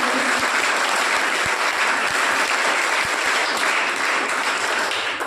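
Loud, sustained applause from an audience welcoming a college principal at a Gandhi Jayanti event organised by an NCC wing, steady clapping filling the whole stretch without voices.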